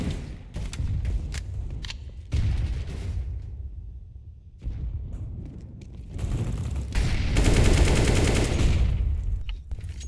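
Rapid gunfire bursts in the Counter-Strike video game during a FACEIT tournament match, loud and repeated, with clusters of shots and brief pauses between volleys.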